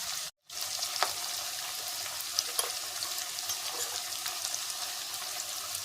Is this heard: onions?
yes